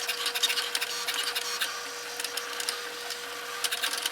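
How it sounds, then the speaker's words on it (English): A vinyl cutter works through vinyl stencil material, its small motor whirring and clicking in quick irregular bursts at close range with no talk. "I'm gonna start playing around with the vinyl cutter for a few stencils and maybe a vinyl cutout."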